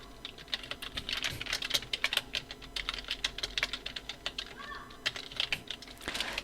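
Typing text into Photoshop on a computer keyboard: quick, irregular key clicks in bursts, close and fairly quiet.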